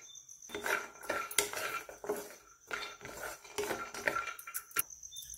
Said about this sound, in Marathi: आता हे ड्रायफ्रूट आहे ते आपण गरम मला कोरडंच भाजायचं आहे।